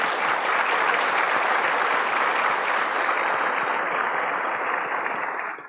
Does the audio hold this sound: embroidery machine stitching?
no